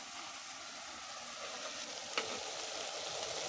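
Country chicken (nattu kodi) curry frying in a pan while being stirred: a continuous close hiss and sizzle, with one brief scrape of the spoon partway through.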